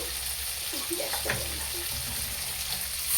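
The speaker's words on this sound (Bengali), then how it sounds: "অল্প একটু জল দেব একটুখানি হওয়ার পরে।" A little water is poured into a pan of mustard hilsa curry, making a faint trickle and bubbling over a steady hiss of cooking, with a brief voice in the middle.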